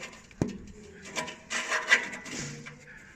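Tabs on a metal plate of a Piazzetta pellet stove tilted into place: a sharp knock followed by soft scraping and light metallic clicks, close and fairly quiet.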